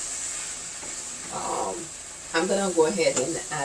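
Food sizzles in hot spiced oil in a pan while Haitian rice is being prepared, with a steady hiss throughout and louder bursts of frying and stirring near the end.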